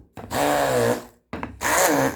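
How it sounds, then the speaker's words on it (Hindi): A grinder jug blends a strawberry, saffron and honey smoothie in two loud whirring pulses, each about a second long, separated by a brief pause. "उसके बाद हम इसको अपनी ग्राइंडिंग मशीन से या ग्राइंडर के जग से इसको मिक्स कर देंगे।"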